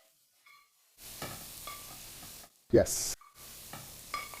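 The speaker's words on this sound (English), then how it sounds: "we just want to hit them with some heat so they get a quick sear" Seafood sears in a hot pan for seafood pasta with peas, producing close, loud sizzling and hissing in bursts broken by stirring and short gaps, while a voice speaks briefly.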